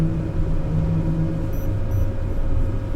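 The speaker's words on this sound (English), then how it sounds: "Hear that boom, boom noise?" Deep, steady low rumble from a vehicle in The Last Caretaker video game after Typhoon engines are fitted, a continuous loud droning boom with faint high whistles drifting over it, no voices.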